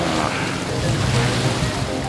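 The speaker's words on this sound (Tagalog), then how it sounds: "Yan ang tabing dagat." Ocean waves roll in at the seashore as a continuous low surf rumble mixed with wind noise on the microphone, steady and fairly loud, with no talking.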